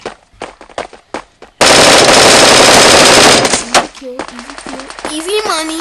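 Bullet Force gameplay gunfire: a few scattered shots, then a loud sustained burst of rapid automatic fire, followed by more shots as a person talks over the action.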